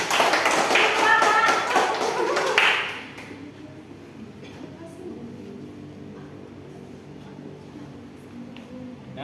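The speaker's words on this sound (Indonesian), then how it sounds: "Kasih tepuk tangan dulu anak kelas 5." A class of fifth-grade children claps together in a school lesson, a burst of dense, close applause lasting a few seconds before fading to quiet room sound with faint movement.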